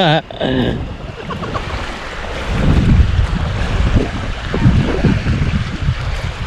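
Wind blows strongly across the microphone with waves washing and lapping against the shore during a boat trip to Cao Minh island, a steady rushing roar that swells and eases throughout.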